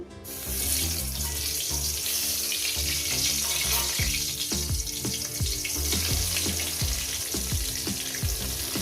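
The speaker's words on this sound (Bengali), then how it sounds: "তেলটা আবার গরম হয়ে গেছে আমি এর মধ্যে এক এক করে বেগুনগুলো দিয়ে দেব" Eggplant pieces fry in hot oil with a steady, dense sizzle and crackle that stays loud throughout, with no voices.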